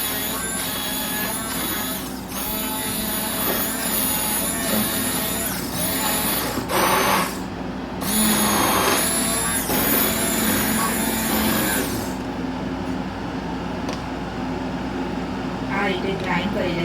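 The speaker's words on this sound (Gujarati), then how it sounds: "હવે આને આપણે ગ્રાઇન્ડરથી ગ્રાઇન્ડ કરી દઈશું." Kitchen grinder whirring loudly as it purees boiled vegetables for enchilada sauce, running steadily for about twelve seconds with brief pulses before cutting off, leaving quieter kitchen noise.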